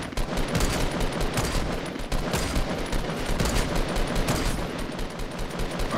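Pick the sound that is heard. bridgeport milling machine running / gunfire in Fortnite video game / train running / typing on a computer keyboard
gunfire in Fortnite video game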